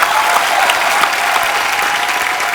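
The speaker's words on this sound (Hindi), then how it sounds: "जैस्मिन के लिए जोरदार तालियां।" Dense, loud studio audience applause on a TV comedy show, steady and continuous throughout.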